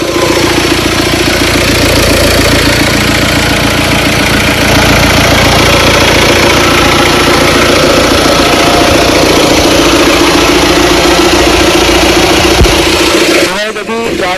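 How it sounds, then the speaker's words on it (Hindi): A BMW X1 engine, newly refitted, idles steadily and loudly for the whole stretch, a continuous rumbling drone that cuts off abruptly near the end. "तो आज अपनी गाड़ी यहाँ पे फाइनली स्टार्ट हो चुकी है।"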